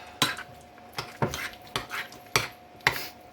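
Cream cheese mixture stirred by hand in a bowl, a series of six sharp scraping clinks of utensil against the bowl in a steady rhythm, close and fairly quiet.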